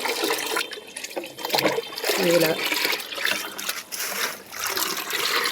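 Water, mixed with rainwater, poured onto a flowering jasmine plant, a trickling, splashing flow that swells and fades in waves, heard close with someone speaking briefly over it.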